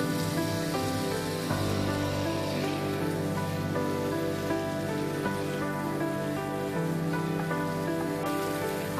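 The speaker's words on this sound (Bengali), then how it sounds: "এবারে নেড়ে চেড়ে মশলার সাথে আলুটাকে ভেজে নিব।" Potatoes fry with spices in a pan for a potato curry, giving a steady, soft hiss like light rain that runs evenly throughout beneath gentle background music.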